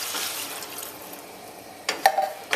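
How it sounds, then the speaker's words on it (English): Water is poured into a cooking pot of curry channa and potatoes on the stove, a soft hiss first, then sharper splashing bursts toward the end. "Turn your heat up to high and go in with some water."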